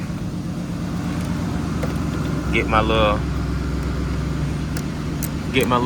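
An old Chevy box car engine idles while warming up, a steady close rumble running the whole time as someone speaks briefly and small knocks sound.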